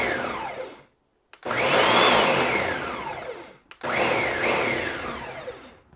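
A Ninja Foodi blender pulses shrimp in two strong whirring bursts, each starting abruptly with a rising motor whine and chopping churn, separated by a short silent gap, close and loud.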